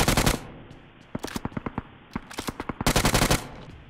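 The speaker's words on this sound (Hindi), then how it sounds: "साइड में से मुझे गन फायरिंग की साउंड आती है" Automatic gunfire in BGMI coming from off to one side, loud bursts of rapid shots separated by short gaps, plus a run of single spaced shots in between, with no talk over it.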